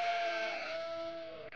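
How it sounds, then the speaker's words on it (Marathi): Cartoon sheep bleat sound effect for a farm animals lesson: one sustained, wavering bleat, clear and fairly loud, heard alone without talk. "मेंढी."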